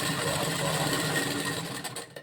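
A sewing machine runs steadily while stitching a blouse lining, a close, continuous whirring hum that slows and stops at the end.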